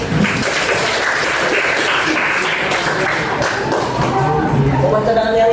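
Applause from an audience during a talk on education, a dense wash of clapping that holds steady across the whole stretch with a faint voice beneath near the end.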